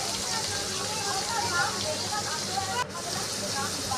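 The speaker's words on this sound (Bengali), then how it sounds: "এবার চিংড়ি মাছটা ভেজে নিচ্ছি।" Prawns frying in hot oil in a pan: a continuous crackling sizzle with a steady hiss, close and moderately loud, with a voice talking faintly over it.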